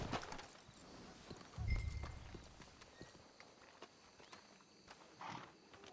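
Horses walking in Red Dead Redemption 2, soft irregular hoof clops over a faint outdoor ambience, with one heavier thump partway through, moderately near and fairly quiet.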